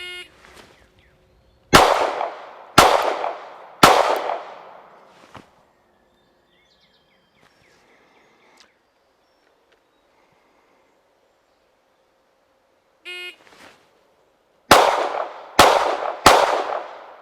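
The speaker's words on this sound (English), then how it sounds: "going to be firing from a two-hand hold at that distance of 30 feet" Shots from Masada 9S and Hellcat pistols, fired two-handed at a target 30 feet away, come as sharp, loud, close reports: a quick group of three, a lone fainter one, a long pause, then another group of three, with no talk.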